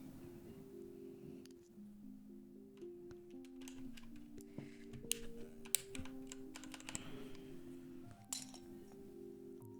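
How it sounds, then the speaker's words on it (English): Keystrokes on an Asus hot-swap keyboard fitted with PBT keycaps, a steady stream of close, crisp clacks and clinks at a fast, uneven typing rhythm, with no talk over it. "I think these switches sound better with the PBT keycaps."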